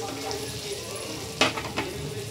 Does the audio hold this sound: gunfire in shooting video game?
no